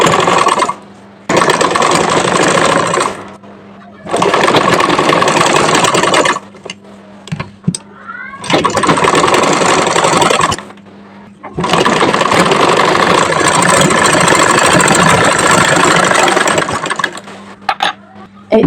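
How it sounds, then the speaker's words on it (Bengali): A sewing machine stitches the neckline of a kameez in loud, close, sustained runs separated by short pauses, with a steady motor hum and a mechanical clatter. "এই তো এবার এভাবে উল্টিয়ে একটা চাপ সেলাই দিয়ে নেব।"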